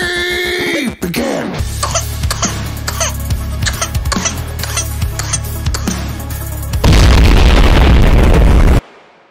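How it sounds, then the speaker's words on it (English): A baby's repeated sharp coughs punctuate a busy, booming background, with heavy bursts throughout, ending in a loud rush of noise before cutting out. "Coughing baby!"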